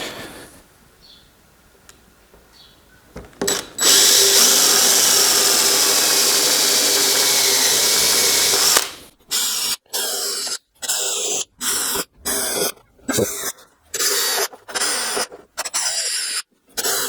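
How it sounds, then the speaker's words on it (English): A power drill working on an Ultima RS kit car during air conditioning fitting, one sustained five-second run followed by a string of short, rhythmic bursts, loud and close with no talk. "Now I need my drill."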